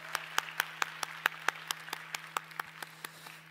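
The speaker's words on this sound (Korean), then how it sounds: "다시 한번 격려와 또 하나님께 영광의 박수를 올려드립니다." Congregation applause at a Korean church's Christmas Day youth worship service, a thin run of separate claps that comes through distinctly at moderate volume and slowly fades, over a steady low hum.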